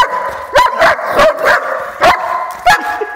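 An excited dog barks repeatedly before a walk: about six sharp, close barks in irregular bursts with short yips between them and no talking.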